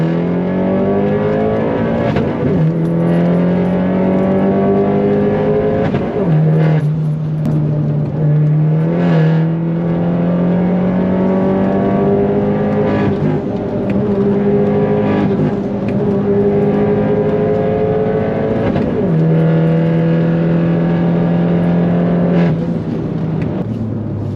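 Tuned Vauxhall Corsa VXR engine revving hard and bouncing against the rev limiter from inside the car, a loud steady drone with repeated rising sweeps and cuts at the limiter, no talking.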